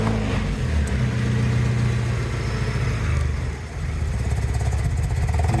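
A Mazda MX-5 Miata engine idles steadily and loudly while running down the fuel left in the line, with a continuous low rumble that dips briefly partway through and then resumes.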